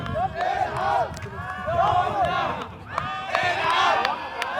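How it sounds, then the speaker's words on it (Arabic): Fans in the stands at a Ramadan football tournament chant loudly in rhythmic waves, a dense massed roar that rises and falls in repeated phrases. "ما زالت الجماهير تهتف، وما زالت الجماهير تعشق من تحب ومن تحب"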